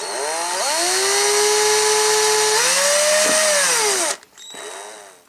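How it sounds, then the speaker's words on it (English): A power drill whines loud and close as a 2mm bit bores through plastic on a vintage Action Man toy, the pitch dipping under load before it cuts off and briefly spins again. "I'm just going to carefully drill a hole where the original peg would have been."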